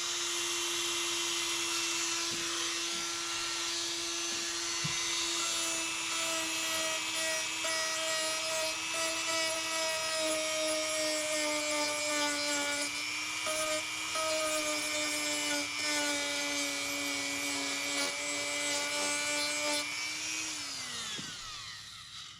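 A small Dremel rotary tool with a sanding wheel whines steadily at low speed, its pitch wavering slightly as it bears on the material, then spinning down at the end.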